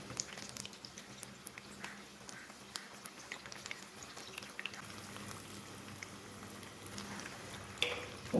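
Chicken spring rolls deep frying in hot oil, a faint, steady crackle and bubbling patter with scattered small pops running continuously.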